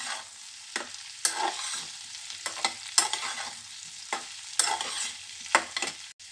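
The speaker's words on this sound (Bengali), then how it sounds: "বিনস দিয়ে নাড়াচাড়ার পর এবার বেগুনগুলো দিয়ে দিলাম।" Eggplant pieces added to a pan of pumpkin and beans, frying and being stirred: a steady sizzle with repeated sharp scrapes of a spatula against the pan, no voices.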